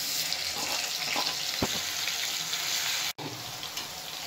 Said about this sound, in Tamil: இப்போது நான் அரைச்சி வச்சுக்கிற வெங்காயத்தை போட்டுடுறேன்.